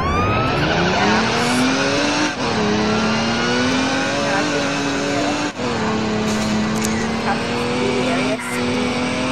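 A car in the Roblox game ER:LC skids with loud, continuous tire squeal over a revving engine, the screech rising and holding for several seconds with brief dips.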